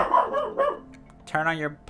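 A dog barks briefly, a short yelp-like call, close and loud, while a person talks over it.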